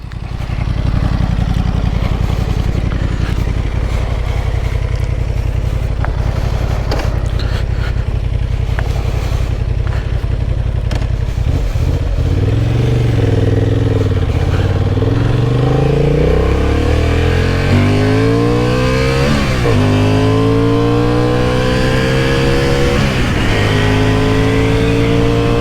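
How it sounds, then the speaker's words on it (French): A 2023 Honda Hornet 750 motorcycle in its A2-restricted version is revved while riding. The loud, close engine climbs through rising rev sweeps, drops back between throttle openings, and then climbs again. "on va juste voir le moteur au niveau bridage"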